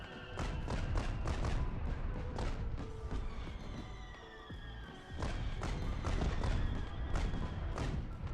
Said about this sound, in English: That sounded like a very heavy explosion.